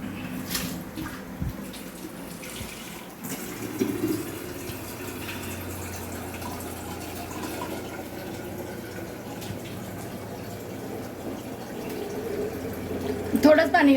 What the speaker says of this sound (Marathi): पाणी गरम करायला ठेवते.